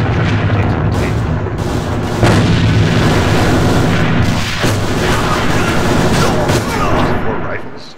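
Rifle gunfire in the online shooter Alliance of Valiant Arms during an ESL tournament match: dense, loud, continuous shots and booms filling the whole stretch, with a commentator's voice running underneath.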